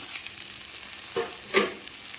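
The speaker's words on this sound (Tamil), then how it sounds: "தேங்காய் போட்டு இன்னும் ஒரு 2 பெரட்டினா போதும், ரொம்ப வதங்கணுங்கிறதுலாம் இல்லை" Grated coconut stirred into sautéed ginger and garlic in a pan for mushroom curry, a faint quiet sizzle with a couple of soft scraping stirs near the middle.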